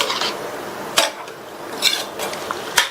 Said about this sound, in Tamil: வெள்ளக்கரைசல் சேர்த்துட்டு சிம்லயே வச்சு ஒரு 2 நிமிஷத்துக்கு மட்டும் இந்த மாதிரி கிண்டி கொடுங்க